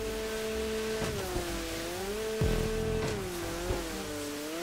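Car drifting in GTA V Online, engine droning with shifting pitch as the revs rise and fall, plus a brief sharp tire-squeal burst partway through, loud and steady with no talk.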